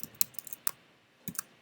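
Scattered keystrokes on a computer keyboard, a few quick clicks in short bursts with pauses between, fairly close and quiet, no talking.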